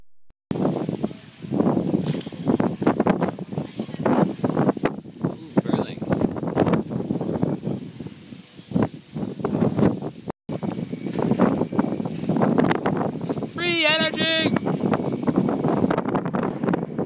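Strong hurricane wind from Hurricane Odile buffets the microphone in continuous loud gusts, with rustling debris and a wind turbine running among destroyed buildings, and a brief dropout partway through.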